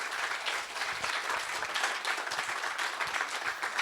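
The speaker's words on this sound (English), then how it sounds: "give them a big applause." An audience at a film festival talk applauds, many hands clapping together in a dense, steady wash of sound that keeps going without a break.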